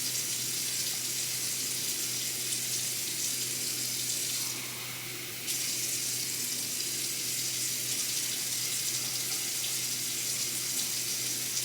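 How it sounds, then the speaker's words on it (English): A kitchen tap runs into a pot of water for a cinnamon and apple pie spice simmer pot, a steady close rushing stream that breaks off for about a second midway, with no talking. "think I'll do 3 cups of water."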